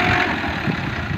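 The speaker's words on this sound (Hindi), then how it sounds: "ये ट्रैक्टर है" A tractor engine runs steadily on a farm where a blade loads soil into a tractor trolley. The deep, loud idle-like drone is continuous and close throughout, with no voices.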